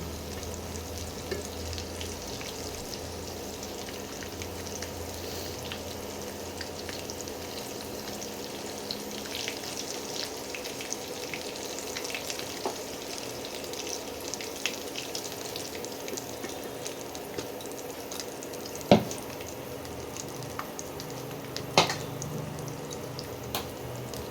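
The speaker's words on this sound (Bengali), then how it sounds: "বাকি এঁচড়গুলো এইভাবে ভেজে নেব।" Young jackfruit pieces frying in oil with a soft, constant sizzle, close by, with occasional clinks and scrapes of stirring and a couple of sharper knocks near the end, no voices.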